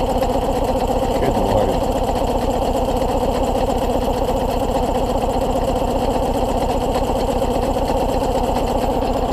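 Turbocharged tractor engine, modified for power at high elevation, running steadily at a fast even rhythm, close and constant throughout with no breaks.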